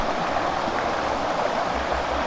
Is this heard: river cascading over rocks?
yes